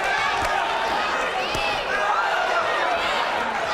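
Boxing crowd on its feet cheering for fighter Keith Kozlin, a loud, continuous roar of voices filling the arena, with a few sharp thuds and no talk over it.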